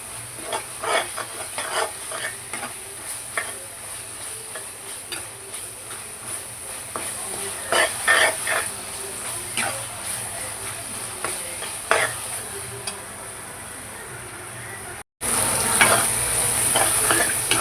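Garlic sautéing in a pan for a pomfret fish curry makes a steady, gentle sizzle. A spoon scrapes and stirs it in repeated close strokes, and after a brief cut the frying turns to a louder hiss.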